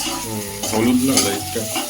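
Onions frying in a kadai on a home kitchen stove, a close sizzle under repeated scraping and stirring strokes of a spoon against the pan, with a faint tonal hum in the background.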